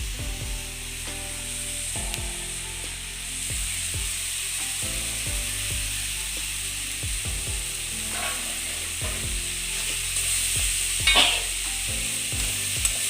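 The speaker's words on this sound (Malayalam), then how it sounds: "നന്നായിട്ട് ഇളക്കി കൊടുക്കാം" Grated coconut for a healthy thoran stirred in a frying pan, giving a steady sizzle and fry with repeated scraping, clacking strokes of a utensil against the pan, close and continuous with no talk.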